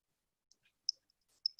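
A few light computer mouse clicks, sharp and isolated, spaced irregularly across a quiet office background, close and faint with no talking.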